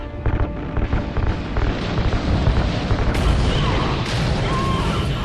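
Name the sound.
explosion of ignited RCS fuel lines, video game Call of Duty Ghosts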